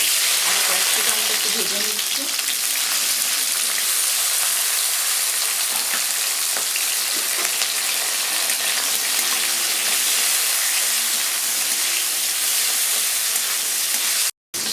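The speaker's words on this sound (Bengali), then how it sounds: "আগে পেঁয়াজ আর ক্যাপসিকামটা একটু ভেজে নিচ্ছি" Onion and capsicum fry in oil in a pan for a paneer bhurji, giving a steady, close, loud sizzle and hiss that runs without a break and stops abruptly near the end.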